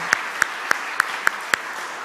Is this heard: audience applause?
yes